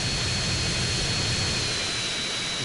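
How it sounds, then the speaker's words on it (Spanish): A plane's engine in GTA San Andreas on PlayStation 2 roars as a loud, steady jet-like drone with a constant high whine, filling the short stretch without talk. "Los aviones en PlayStation 2 eran lo peor."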